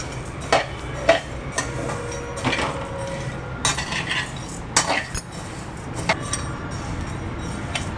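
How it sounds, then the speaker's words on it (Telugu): Spices dry-roasting in a pan for an herbal decoction, tossed with a metal spoon that clinks and scrapes in repeated quick strokes over a faint background crackle. "ఇప్పుడు ఈ విధంగా వేయించుకోవాలి"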